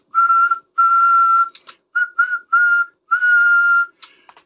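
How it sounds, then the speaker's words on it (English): A person whistles steady sustained tones and short bursts into the microphone of a Yaesu FT-480R radio set to upper sideband, loud and close with brief gaps between notes. "whistle into the microphone"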